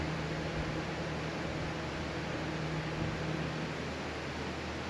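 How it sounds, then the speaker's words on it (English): An electric fan runs to dry repaired plaster, giving a steady, even whooshing hiss with a faint low hum, constant throughout and with no talking. "All right, fan's back on and it's drying."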